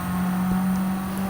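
Car engine in a racing video game climbing an uphill section of the Yamagiwa track, a steady sustained drone holding at a constant pitch through the short stretch with no talk over it.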